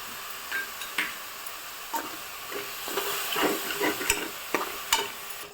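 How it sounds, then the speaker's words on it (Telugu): Yogurt and garam masala frying in a pan for mushroom pulao, a soft steady sizzle with intermittent stirring clicks and scrapes of a spoon against the pan. "ఇందులో ఒక 2 స్పూన్స్ పెరుగును కూడా వేసి వేపుకోవాలి."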